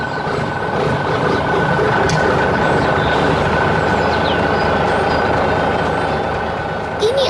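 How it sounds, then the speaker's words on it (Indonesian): A yellow truck at work lifting a large tree in a green farm field, its steady engine rumble loud and continuous throughout with faint mechanical clanks over it. "Truk sedang bekerja dengan sangat fokus di tengah kebun yang hijau."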